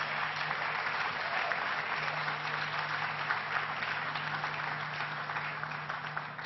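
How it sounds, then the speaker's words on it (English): Sustained applause from an audience at a film festival event, a steady dense wash of clapping that holds evenly for the whole stretch with no voices breaking through. "Let's give her a big round of applause."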